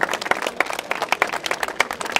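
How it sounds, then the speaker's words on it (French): A small audience claps for a race winner at an awards moment, with scattered, fairly sparse hand claps forming an uneven patter throughout at moderate volume. "Vous applaudissez une nouvelle fois, s'il vous plaît, Jean-Michel Bazir"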